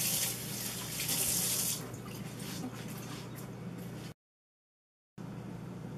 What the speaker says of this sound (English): always wash your hands before leaving